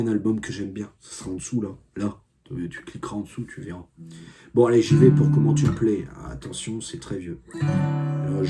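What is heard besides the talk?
No everyday noises stand out.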